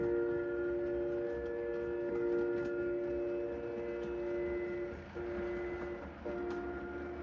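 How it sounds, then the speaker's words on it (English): Quiet, steady hum and whir from a model train running on its rails, with a faint mechanical drone and small dips near the end. "it's really a joy for me just hearing the wheels on the rails going around like the real thing"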